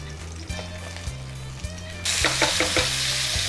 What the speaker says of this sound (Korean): 불을 좀 세게 해주시고 토마토 녹진하게 구워주시는 거예요